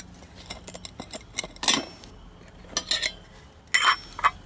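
Metal camp cookware is handled as a homemade alcohol-stove kit is opened, with a windscreen, stove and pot stand inside, giving a series of close, irregular clinks and rattles of metal pot and parts, several sharper bright knocks standing out.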